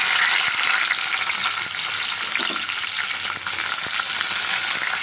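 Green chillies frying in oil in a kadai make a loud, continuous sizzling hiss, close and even, with faint stirring ticks beneath.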